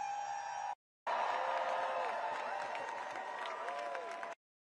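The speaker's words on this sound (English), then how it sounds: "Take a look at this huge crowd right here in our nation's capital" A large protest crowd in the nation's capital cheers, whoops and applauds in a dense, steady roar, broken by one short silent gap near the start.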